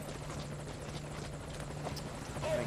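Faint helicopter in Metal Gear Solid V: Ground Zeroes, a steady low rotor hum that drones evenly and swells slightly toward the end, with no talk.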